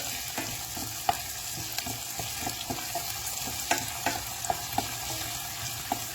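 Sauce for Senegalese thiébou djeun sizzles and simmers in a pan with onions, a steady close frying hiss broken by scattered clicks of stirring, no voices.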